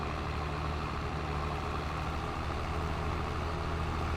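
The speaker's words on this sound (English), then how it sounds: "That's such a sweet looking tractor." A JCB tractor engine in Farming Simulator 22 runs steadily, a constant low, heavy rumble like a diesel idling close by, unchanging throughout with no talk over it.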